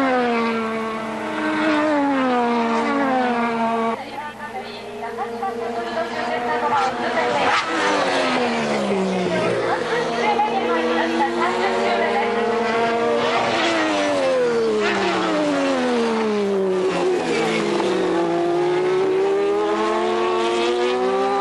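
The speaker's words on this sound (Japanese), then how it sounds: "30周目の最終コーナーをサックウェルがクリア" F3000 race cars howl through the final corner of a circuit, engine notes rising and falling in long sweeping pitch glides as several cars pass in succession, loud and continuous, with a commentator talking over them.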